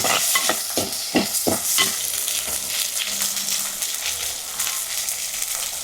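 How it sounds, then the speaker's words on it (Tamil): Chopped shallots fry in hot oil with a loud, continuous sizzle, while a spoon stirs and scrapes the pan in a quick run of strokes early on before the sizzling carries on alone. "இப்போ நல்லா எல்லாத்தையும் கிளறி விடுவோம். எண்ணெயில் நல்லா வதங்கி வரட்டும்."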